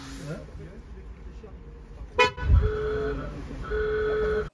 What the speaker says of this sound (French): le déclenchement via le klaxon fait d'abord retentir le klaxon, puis le son de la Boombox